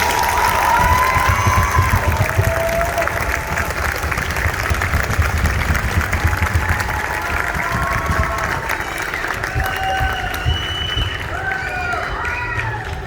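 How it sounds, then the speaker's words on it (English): A middle school audience at a winter band concert claps warmly and continuously for a beginner band, with cheers and children's shouts mixed into the sustained crowd applause. "So give these guys a huge round of applause."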